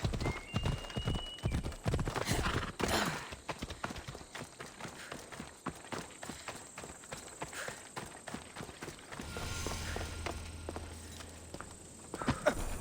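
Horse hooves clip-clopping as a rider travels in the video game Assassin's Creed Odyssey, a brisk, steady beat up close that eases into a quieter rumbling ambience with faint background sounds.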